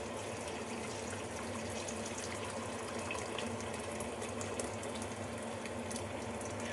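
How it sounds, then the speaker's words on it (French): Hot water pouring from a kettle onto white beans for a Moroccan bean dish, a steady continuous rushing stream filling the pot, fairly even in loudness throughout and with no voices. "maintenant je vais rajouter de l'eau chaude"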